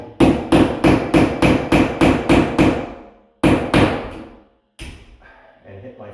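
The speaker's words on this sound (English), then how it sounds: "I'm going to take my hammer and punch a little hole with a nail where the stud is." A hammer drives a nail to punch a screw hole where a stud sits, with about nine quick, loud, evenly spaced strikes followed by a pause and a few more blows, then quieter handling sounds.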